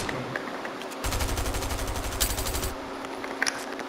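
Automatic weapon fire in Fortnite, a sustained rapid burst of about two seconds starting after a quieter moment, near and fairly loud, followed by a few scattered shots.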